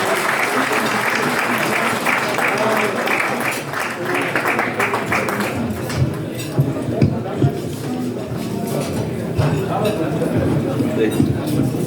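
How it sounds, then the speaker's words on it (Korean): An indoor audience claps warmly as two singers come on stage at a Korean-UN Command friendship association founding event, with steady sustained applause, crowd shuffling and some talk mixed in. "여러분 큰 박수로 맞아주십시오."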